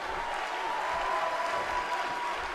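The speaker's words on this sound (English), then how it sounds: "the crowd cheering for Leo Fenix" A large arena crowd cheers and applauds steadily in WWE 2K18 during a custom-universe wrestling match, a dense continuous roar with no talk over it.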